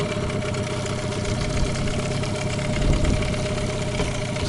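A Gladiator 9.9 outboard boat motor running on its first start, a loud, steady idling engine drone with a rough, buzzy texture throughout, no talk.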